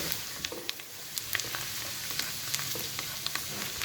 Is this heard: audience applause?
no